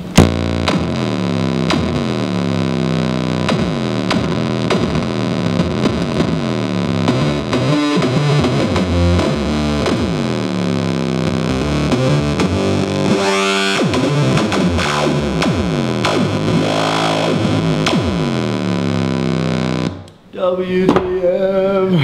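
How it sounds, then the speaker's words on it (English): A Loud Button Electronics WTF effects pedal under foot churns out a loud, heavily distorted, warbling and glitchy sustained tone with sweeping pitch shifts, running without a break for about twenty seconds before an abrupt drop and brief resumption. "Loud Button Electronics WTF pedal. And when you step on it,"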